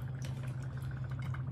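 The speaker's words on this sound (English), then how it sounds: "This is like bubbling a lot" A stirred fizzy drink bubbling and crackling continuously, close and fairly soft, with a steady low hum underneath.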